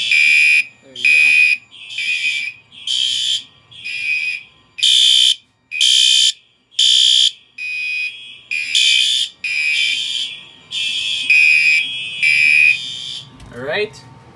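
A home fire alarm system under test blares in regular loud electronic pulses, about a dozen evenly spaced bursts, close by, with a brief voice near the end.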